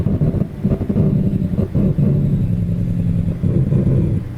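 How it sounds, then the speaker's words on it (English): Heavy truck engine braking with a Jake brake in American Truck Simulator, a steady loud low rumble and throttle drone that holds for about four seconds with no talk over it. "That Jake brake did not sound the best"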